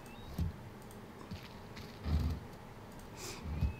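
A door creaking open in a video game, with a few low creaks and thuds spread across the clip over a steady background hiss.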